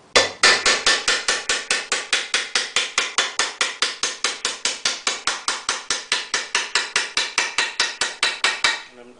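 About forty hammer blows strike a car fender panel as it is shaped, a loud, steady, evenly spaced metallic tapping that runs for several seconds and stops near the end, with no talk.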